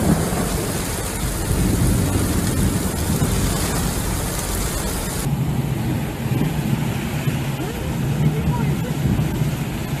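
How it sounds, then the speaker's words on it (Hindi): Heavy thunderstorm rain pours over the Masjid al-Haram in Mecca at night, a dense, steady roar of downpour with deep rumbling underneath that continues without a break. "मस्जिदुल हराम में कल तकरीबन ईशा के वक्त ये बारिश शदीद हो गई"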